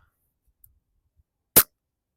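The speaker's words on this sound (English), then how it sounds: "So let's get the first shot out." A WE airsoft Glock 17 Gen 5 MOS gas blowback pistol fires one shot that fails to cycle. It makes a single crisp, close pop in an otherwise quiet room.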